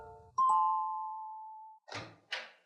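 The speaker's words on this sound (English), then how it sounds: "he decided to ring the bell of a small house at the side of the road" A small house's doorbell rings with one sustained ding tone that decays slowly over about a second and a half, followed by two short knocking thumps, heard clearly with no talking.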